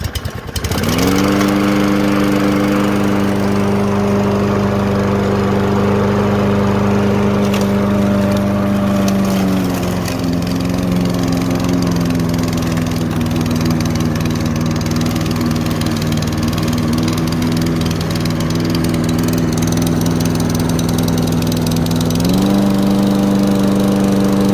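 A propane-powered lawn mower engine runs close and loud, holding a steady throb before dipping in pitch and then climbing back up near the end, with no talk over it.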